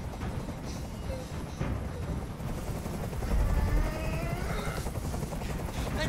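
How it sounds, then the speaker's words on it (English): In the video game Detroit: Become Human, a helicopter hovers overhead with a moderate, continuous rotor drone, and a few sharp, distant bursts and faint voices sound beneath it. "I can't stand that noise anymore. Tell that helicopter to get out of here."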